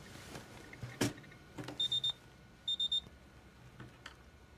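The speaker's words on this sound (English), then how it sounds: "Your tech boys' alarms should be ringing about now." An electronic alarm clock rings in two short bursts of rapid high beeps, each a quick triple pulse, set against a quiet room with a few soft knocks and clicks.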